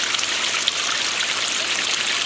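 Water from a garden pond waterfall flows and splashes down the rocks with a steady, bright, dense trickling hiss, close and constant, no voices.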